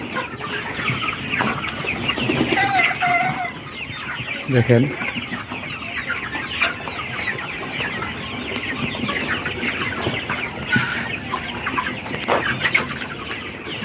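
A flock of Sonali High Super Plus chickens on a farm, a loud, dense chorus of overlapping clucks and squawks from many birds nearby. A voice briefly speaks over the flock.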